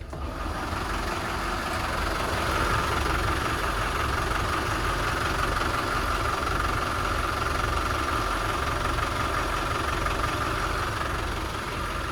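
A Sealine S34 motor boat's engines idle steadily just after startup, a loud, constant low rumble with a humming drone and no talk over it.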